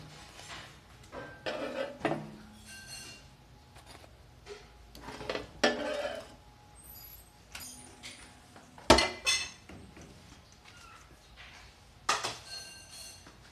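Burger bun set on a plate in a home kitchen: scattered clinks and clatters of dishes and cutlery, with sharp knocks around the middle and at the end, no talk.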